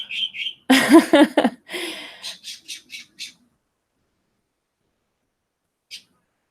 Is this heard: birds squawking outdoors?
yes